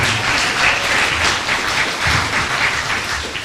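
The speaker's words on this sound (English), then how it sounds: "Give him a nice round of applause, too." A live show audience at a fifties music revue applauds warmly, a thick, loud wash of clapping sustained throughout without any talking over it.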